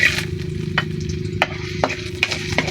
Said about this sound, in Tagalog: magigisa na po si mama ng mga rekado.